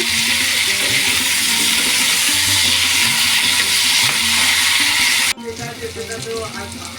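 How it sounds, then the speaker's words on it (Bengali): Steady sizzling of salted potatoes frying in hot oil, loud and continuous, then cutting off abruptly near the end, leaving quieter clinks and kitchen noise. "দেখুন বন্ধুরা আলু ভাজা হয়ে গেছে"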